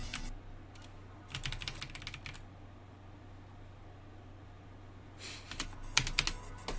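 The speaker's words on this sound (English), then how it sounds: "I just wanted to see what would happen if I spam my arrow keys back and forth." Computer keyboard arrow keys spammed back and forth in rapid clattering bursts, a dense flurry near the start and another toward the end, with quieter gaps and a faint fan hum between.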